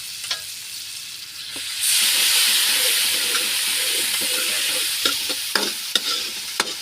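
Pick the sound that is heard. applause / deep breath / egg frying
egg frying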